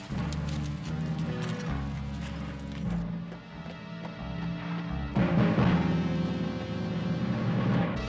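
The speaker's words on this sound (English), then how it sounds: "stupid horse! Move!" A horse's hooves clip-clop on the ground in a western-set animated scene, a steady sound layered under music and other action.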